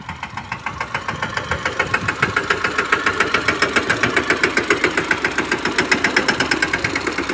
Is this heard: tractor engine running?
yes